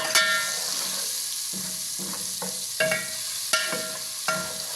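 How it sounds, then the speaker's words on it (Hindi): Spices fry with tomatoes in a pan for aloo baingan salan, a steady close sizzle broken by four or five sharp spoon scrapes as the mixture is stirred. "ये अब इसे हम थोड़ा सा भून लेंगे मसालों को टमाटर के साथ।"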